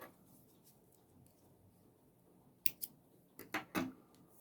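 Scissors snip off excess crochet yarn, giving a few short, sharp clicks close by in the second half after a quiet start.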